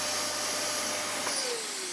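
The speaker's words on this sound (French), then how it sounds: "Et l'aspirateur, maintenant?" A vacuum cleaner drones steadily from an adjoining room, a continuous muffled whine that holds for the whole stretch, with a faint whistling tone sliding downward near the end.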